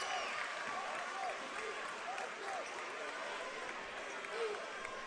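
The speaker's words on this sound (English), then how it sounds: "To a round of applause from the Olympia faithful." Home crowd at a high school boys basketball game applauds an injured player returning to the court, a sustained distant clapping and chatter with a commentator's voice and sneaker squeaks on top.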